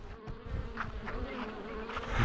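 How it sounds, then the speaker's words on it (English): Bees buzz steadily on a Kansas prairie trail at Konza Prairie, a continuous close insect drone that wavers in loudness across the whole moment with no talking. "The murder bees,"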